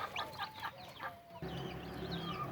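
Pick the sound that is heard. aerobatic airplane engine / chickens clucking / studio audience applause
chickens clucking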